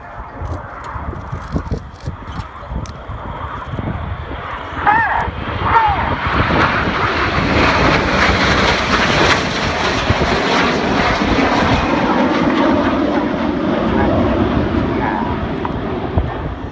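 Red Arrows jets fly a display at the 2016 Cosford air show, their loud, sustained engine roar swelling and holding steady as they pass near, with an announcer's voice over the aircraft noise.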